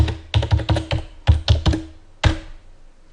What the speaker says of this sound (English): the way you authenticate is by typing in your password an additional time